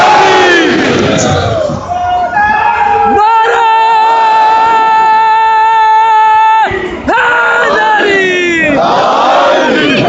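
A large crowd at a Muharram procession shouts a loud chant in unison, voices rising in repeated surges, with a long sustained collective cry in the middle.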